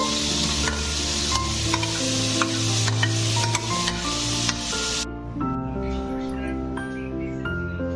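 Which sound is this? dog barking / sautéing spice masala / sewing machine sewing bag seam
sautéing spice masala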